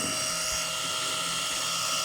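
A Ryobi belt file sander runs with a steady, high-pitched motor whine and a continuous buzzing drone from start to finish, loud and close.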